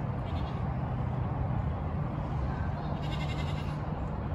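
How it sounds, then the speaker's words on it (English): Goats bleating in a farm pen, repeated calls blending into a busy, continuous din, with the animals close and loud throughout. "There are goats everywhere."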